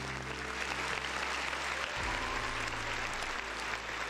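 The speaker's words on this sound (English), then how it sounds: "round of applause to the folks in the chat" Steady applause from a crowd, dense and continuous clapping at moderate level with no breaks, holding evenly from start to finish.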